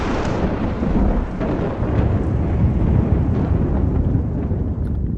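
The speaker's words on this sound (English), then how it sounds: "Lightning indoors, if you can even call it indoors." Thunder from lightning crashing inside a video game, a continuous heavy rumble with broadband roar and occasional sharper cracks, loud and sustained throughout with no talk.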